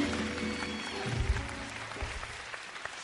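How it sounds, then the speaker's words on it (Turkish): Studio audience on a Turkish TV talk show applauding two guests together, a steady, fairly quiet wash of clapping with a faint low hum beneath and no talking. "O zaman konuklarımıza şöyle toplu bir alkış alalım ikisine birden"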